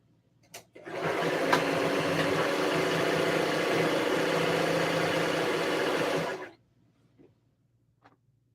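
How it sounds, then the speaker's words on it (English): A sewing machine stitching ruffles in a small studio runs in one continuous steady whir for about five seconds before stopping, with a few faint clicks before and after. "Just sewing up the ruffles."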